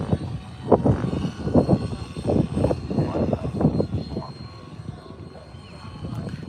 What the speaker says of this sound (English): That's Nonstop FPV that just passed by